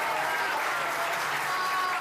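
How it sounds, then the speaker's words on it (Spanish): A crowd at a political rally in Argentina applauds in a dense, unbroken roar of clapping that stays loud and even throughout, with no pauses. "al compañero Luis Delía de Miles TTT, pido un aplauso"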